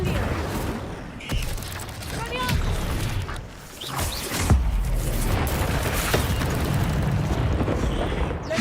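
An Incendio fire spell cast in Hogwarts Legacy: loud whooshing bursts of flame and crackling impacts amid ongoing combat clatter, with voices speaking intermittently.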